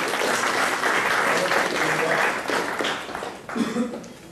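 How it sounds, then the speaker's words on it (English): An audience in a classroom or training session claps hands together in a dense, steady round of applause that thins out near the end, with faint voices under it. "give yourself a hand clap"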